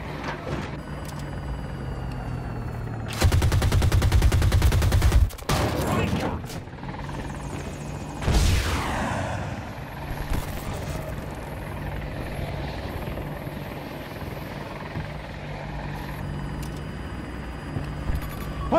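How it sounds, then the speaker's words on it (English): Hostile attack helicopter in Battlefield 2042, its rotor droning throughout a combat scene, with loud bursts of gunfire and a passing whoosh over a steady engine hum; no speech. "Hostile helo!"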